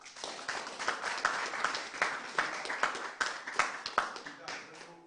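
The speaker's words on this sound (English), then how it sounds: "I think he deserves a round of applause" A studio audience claps on a morning television show, a steady patter of many hands running the whole stretch at moderate loudness, with a voice faintly underneath.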